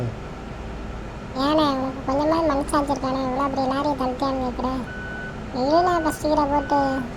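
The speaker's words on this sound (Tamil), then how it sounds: "ரிவர்ஸ் கீர் போட்டு பின்னால் வரண்டா" A truck's reversing alarm beeps in a steady repeating pattern, loud and close, with a short pause midway before the beeping resumes, while people talk over it.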